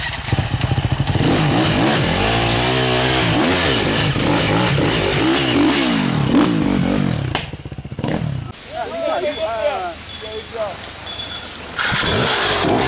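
An enduro motorcycle at a trail race revs hard and close, its engine pitch sweeping up and down repeatedly, then drops lower as people talk loudly nearby over the idling bike.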